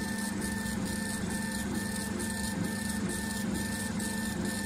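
A K40 laser engraver running mid-job, its stepper-driven head producing a steady electronic hum with a quick, regular pulsing chatter like a printer carriage, close and continuous with no talking.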